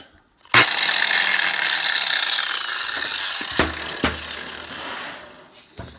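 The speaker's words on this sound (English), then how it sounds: "You just pick up the grinder and you use it." DeWalt DWE43116R 6-inch angle grinder running steadily for several seconds with a harsh, bright whine, starting abruptly, then winding down with a few clicks near the end, close and loud with no talking.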